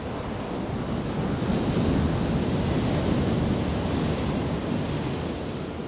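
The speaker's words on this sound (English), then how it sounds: "Listen to these beautiful waves and feel the rhythm of the wave of your breath as well." Ocean waves surge as a steady, broad wash of surf that swells gently and never breaks off, with some wind rumble mixed in and no voices over it.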